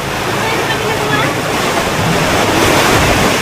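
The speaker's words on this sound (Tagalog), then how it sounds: "Umahampas yung ano, yung tubig." Waves crash and surge steadily onto the shore at a beach dotted with mushroom- and umbrella-shaped structures, a loud continuous roar of surf with some wind buffeting the microphone throughout.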